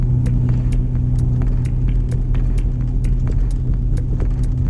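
Four-wheel-drive vehicle crawling along at walking pace, about 5 km/h, a steady low engine rumble with repeated light clinking and rattling over it throughout.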